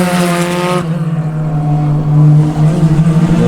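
SCCA Spec Racer Ford cars racing at Sebring, loud engines howling close by as a tight pack passes with shifting pitch, one car handing off to the next.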